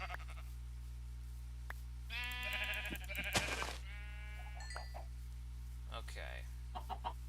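Sheep in the Minecraft video game bleat a few times amid clucking chickens and other farm-animal calls, with scattered brief noises over a steady low hum.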